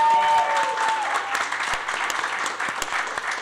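Steady applause from an audience at a national cannabis policy summit, moderately loud clapping that carries on evenly for a few seconds, with a faint voice tone at the start.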